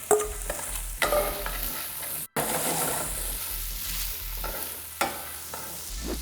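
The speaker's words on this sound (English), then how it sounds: "I'm doing a high heat caramelize on these. So you gotta keep moving them around so they don't burn" Yellow onions caramelizing over high heat hiss loudly in a pan while a utensil pushes them around, with scraping strokes recurring every few seconds and one brief pause in the sizzle.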